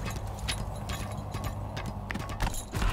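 Rapid clip-clop hoofbeats of a galloping horse in the video game Lost Ark, a steady running rhythm carried on under faint background game sounds.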